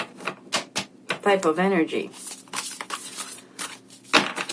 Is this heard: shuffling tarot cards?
yes